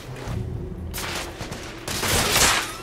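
Gunfire rings out in The Order: 1886 video game, loud close bursts of shots arriving in two clusters over a few seconds with no talk.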